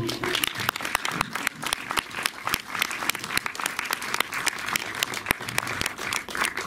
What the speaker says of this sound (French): On peut applaudir Nour